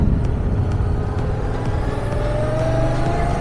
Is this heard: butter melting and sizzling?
no